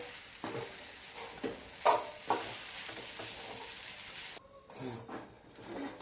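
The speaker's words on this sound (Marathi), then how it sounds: "पोहे घातल्यानंतर ते असे परतवून घेऊयात" Poha being stir-fried in a pan: a spatula scrapes and turns the flattened rice through a soft, steady sizzle, with a few sharper knocks against the pan. It is close and heard without any talk.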